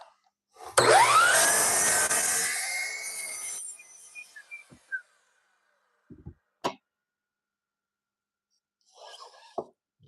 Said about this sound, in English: bevel bit for the router table. That'll be the last thing I do. Bevel the edges of this.